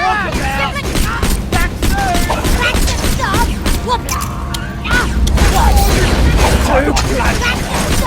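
Video game turrets fire in dense, rapid bursts among explosions and busy battle noise, loud and close, with excited voices talking over them.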